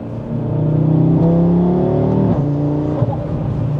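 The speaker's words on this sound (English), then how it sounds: "a little bit more like turbo, like the whoosh noise when you're accelerating" An Audi RS3 engine with a large upgraded intercooler revs up under acceleration with a rising whir and a faint whooshing rush of turbo air, no voices.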